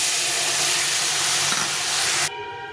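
Boiled water poured into sautéed spices in a pan for a singi fish curry with raw banana and potato, a loud, dense rushing hiss that cuts off abruptly near the end, leaving a softer bubbling.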